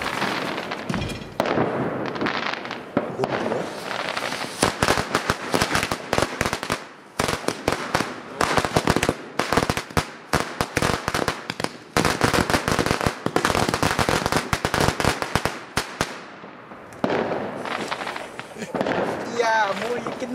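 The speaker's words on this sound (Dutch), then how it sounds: "Oudjaarsnacht knal, nog voor 12 uur." Fireworks and firecrackers explode on New Year's Eve night, a dense, loud stream of sharp cracks and bangs that runs almost continuously, with people talking at moments.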